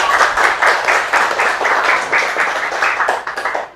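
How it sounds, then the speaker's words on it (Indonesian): Applause from a class of students, with a strong rhythmic pattern of unison clapping in regular beats rather than a scattered ovation, fairly loud and close, gradually loosening toward the end. "Tepuk tangan dulu untuk kita semuanya"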